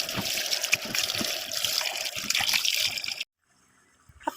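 Salted bitter gourd rinsed under running tap water in a kitchen, a steady splashing trickle for about three seconds that stops abruptly, then a faint clatter.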